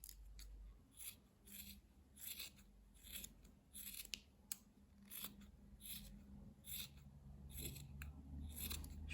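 Scissors snip yarn again and again in quick, irregular bursts while a crocheted beret and its pompom are trimmed, each crisp cut sounding faint and close in a quiet room.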